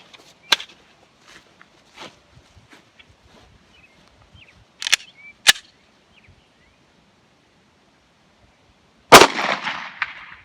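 A .45 handgun fires Winchester 230 grain full metal jacket rounds, heard as a handful of sharp, isolated cracks spaced irregularly across quiet gaps, the last and loudest shot ringing out with a lingering echo.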